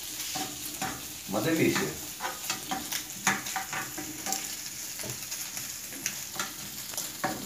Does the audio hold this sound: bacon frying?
yes